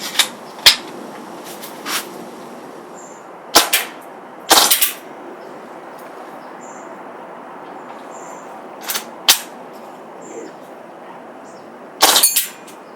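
A Tippmann M4 paintball marker with a CO2 magazine fires on semi-auto: several sharp pops at irregular intervals, some single and some in quick pairs, over a steady background hiss.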